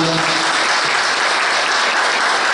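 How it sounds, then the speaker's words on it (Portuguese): Audience at a commemorative ceremony for a newspaper's centenary in Delmiro Gouveia applauding, a dense, steady wash of many hands clapping loudly throughout. "Está aqui a irmã Feitosa, a gente vai aplaudi-la"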